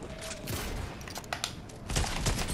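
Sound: sniper gunfire in the video game Fortnite

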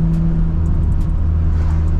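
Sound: Nissan R32 GTR downshifting

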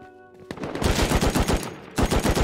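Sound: gunfire in the video game Rust

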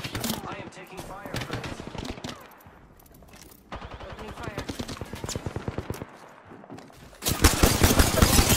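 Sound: gunfire in a video game

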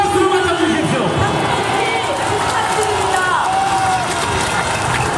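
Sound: crowd applause at a rally

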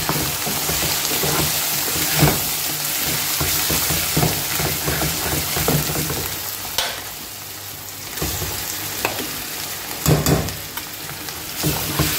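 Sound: saag frying with garlic and spices in pan

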